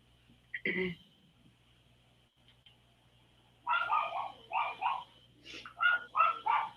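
Puppies bark and yip in quick high-pitched bursts, one early yelp and then a lively run of repeated barks, fairly near over a quiet indoor background with a faint hum.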